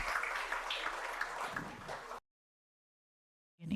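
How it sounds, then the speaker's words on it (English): A conference audience applauds a panel of speakers on sustainable production incentives: a quiet, steady patter of many hands for about two seconds, then it cuts off abruptly into silence before a brief sound returns at the end. "A big applause for them."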